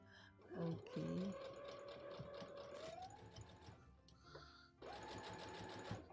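A sewing machine stitches fabric for a Christmas stocking, its motor whirring in close, steady runs that briefly pause and start again.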